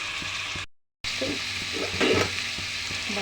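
Cauliflower frying in a pan with ginger garlic paste and turmeric, a continuous sizzle with stirring clatter, briefly cut to silence early on, then resuming with a louder burst near the middle.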